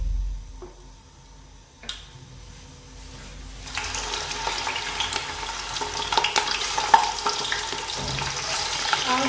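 Beef hitting a pan of roasted garam masala for kachnar gosht: a quiet start with a single knock, then a sizzle that swells and holds steady with light stirring scrapes, and no voices.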